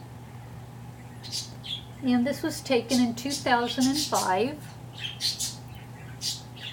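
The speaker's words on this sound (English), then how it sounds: "my son bought himself this bird. I think it's a conure, a green-winged conure" A pet green-winged conure parrot gives several short, sharp squawks, scattered before, between and after a person talking nearby.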